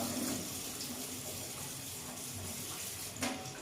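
Water is poured over the outside of a woven bamboo basket used for steaming black glutinous rice, a steady close splashing flow that runs unbroken for several seconds with no talking.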